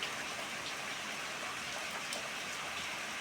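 Heavy rain pours outside a window, a dense, steady hiss that stays at an even level throughout with no pauses or voices.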